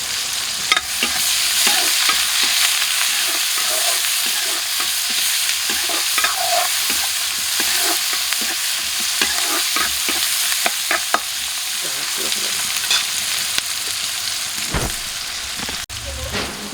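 Chopped onion sizzles and fries in a pan, with a constant hiss broken by repeated scraping and clattering strokes from stirring.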